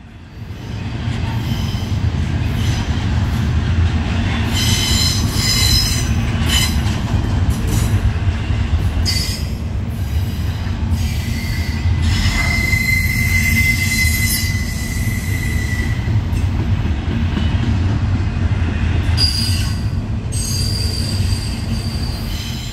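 A D&H freight train hauling containers and auto racks rumbles past at night, a loud continuous roll of wheels broken by high, drawn-out squeals and screeches of wheels on rail.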